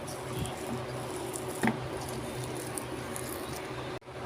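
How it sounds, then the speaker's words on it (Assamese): Gram flour is worked by hand into sliced onions without water, giving soft, quiet squishing and patting sounds that go on steadily, with one brief louder squelch. "এইদৰে মই পিঁয়াজতে গোটেই বেচনখিনি খুব ভালদৰে এইদৰে সানি ল'ম"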